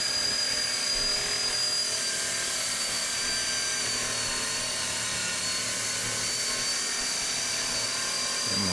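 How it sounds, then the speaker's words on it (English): A power drill bores a lockset hole through the face of a door slab, a loud continuous whine and grind that holds steady throughout with no pauses and no voices. "I'm going to drill through the face until basically I see the drill bit come through the back side."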